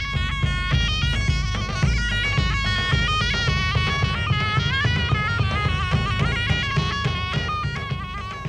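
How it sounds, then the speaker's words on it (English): A shawm, the medieval double-reed forerunner of the oboe, plays a nasal, buzzing melody over a busy accompaniment of low drones and percussion, continuous and fairly loud throughout. "That was the sound of the shawm, the forerunner of the modern oboe."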